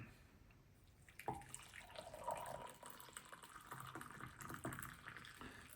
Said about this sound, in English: So now we'll add our water in.